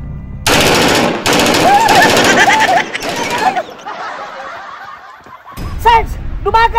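Bursts of rapid machine gun fire crackle loudly in a Filipino action film scene, long automatic volleys separated by short pauses, mixed with shouting voices and a stretch of laughter between the bursts.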